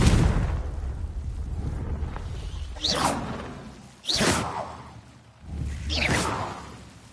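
The Confringo blasting spell is cast three times in Hogwarts Legacy on PS5, each one a loud rushing whoosh that swells into an explosive burst. The blasts arrive at irregular intervals over a low rumbling backdrop.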